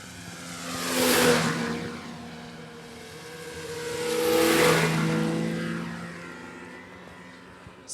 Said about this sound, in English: We got some snowmobilers.